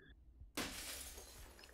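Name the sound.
glass breaking, from a video game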